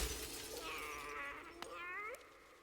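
A glass container shatters in the Hollow Knight video game, a sharp crack followed by ringing, tinkling tones and a rising whistle-like effect, quiet and heard alone without talk.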